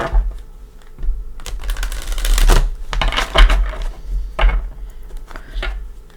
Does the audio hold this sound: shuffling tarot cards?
yes